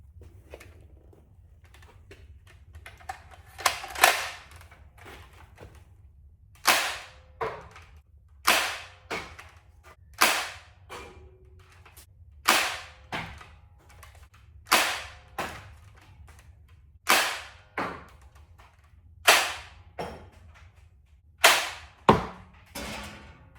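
A 1998 Koosh Vortex Tornado toy blaster firing rings, a sharp snapping pop repeated about a dozen times at steady intervals of roughly one to two seconds, close and loud against a quiet background.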